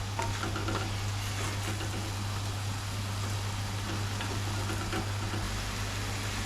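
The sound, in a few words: onions softly frying in a pan for onion gravy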